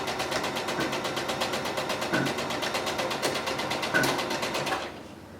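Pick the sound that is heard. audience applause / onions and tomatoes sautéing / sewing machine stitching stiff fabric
sewing machine stitching stiff fabric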